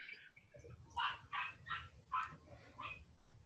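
Several dogs in a home barking in a choppy series of about six yips and barks, fairly faint and somewhat distant, over a low background rumble.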